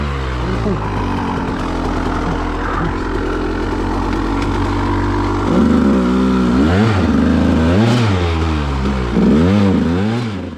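A vehicle engine held at open throttle while its tires spin without traction in snow, a loud close drone that surges and wavers repeatedly in pitch through the second half as the wheels slip.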